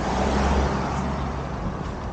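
Cars travel along a quiet rural road in Korea, with one vehicle's rumble swelling close by early on and then easing off, leaving a steady background of engine and tyre noise.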